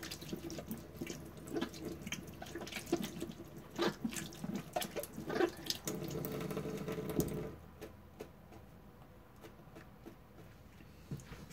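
Paprika peppers rinsed under a running kitchen tap, with a steady splash of water into the sink for about seven seconds, then the flow stops and only faint drips and quiet room noise remain.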